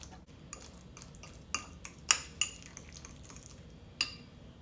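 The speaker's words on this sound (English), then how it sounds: "So I've just taken an avocado, sliced it in half, removed the pit. Then I'm going to mash this up." A halved, pitted avocado is mashed for avocado toast, giving sparse, close clinks and taps of a utensil against a dish with soft squishy scraping between them. No one speaks.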